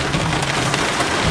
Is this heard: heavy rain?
yes